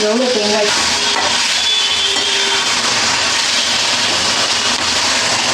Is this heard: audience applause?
no